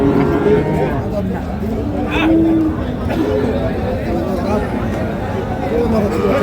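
A noisy crowd chatters constantly at the Ambari cattle market while dairy cows, including Sahiwal, Sindhi and local breeds, low now and then in the mix, a loud, busy outdoor scene.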